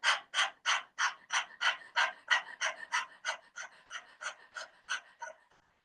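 Rapid rhythmic panting breaths from a yoga breathing exercise imitating a dog's pant, with tongue out. About fifteen quick, close, breathy bursts come at a steady pace and fade slightly toward the end, with no talking.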